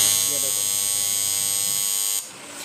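A washing machine timer buzzer is tested, giving a steady electric buzz with a rich harsh tone that runs loud and close for about two seconds before cutting off, leaving a quieter hum.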